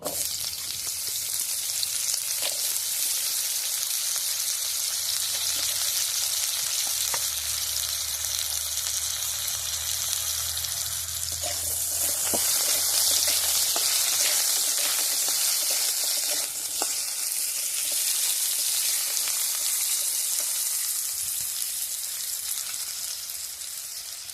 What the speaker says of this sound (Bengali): কলার তরকারিতে যে আলুগুলো দেবো সেগুলো আমি ভেজে নিচ্ছি